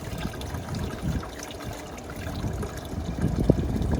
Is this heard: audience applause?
no